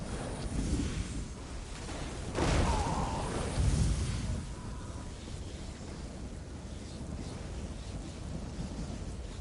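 Thunder and lightning effect: a broad rumbling crash with sharp bursts near the second and fourth seconds, then a steady storm-like wash of noise that stays fairly loud to the end.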